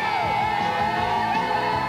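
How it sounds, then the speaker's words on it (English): A large crowd cheers and whoops loudly in a dense, continuous roar of many voices with rising yells. "Or you might cheer."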